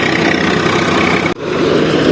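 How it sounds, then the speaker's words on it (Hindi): A Swaraj 855 tractor engine labours under heavy load while harvesting wheat in a field, a loud steady diesel drone with a brief dip near the middle before it picks up again. "ये थोड़ा ज़्यादा दबाव आने के बाद में कुछ ऐसी आवाज़ें निकलती है।"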